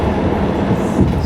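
A New York City subway train rolls on metal wheels, a brief, loud, continuous rumble and roar filling the whole moment with no voices.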